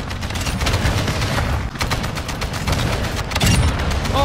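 Chopper gunner killstreak gunfire in Modern Warfare 2, a dense continuous roar of rapid automatic shots and booms from above, loud and unbroken throughout with a brief dip midway.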